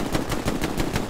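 Rapid bursts of gunfire from a World War II infantry battle in Hell Let Loose, about six sharp evenly spaced shots within a second, loud and close with no talking.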